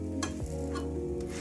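A paratha fries in a pan just after being flipped, giving a steady close sizzle with brief stirring or scraping touches and no voices.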